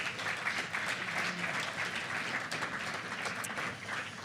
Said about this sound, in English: How about another round of applause for Gary?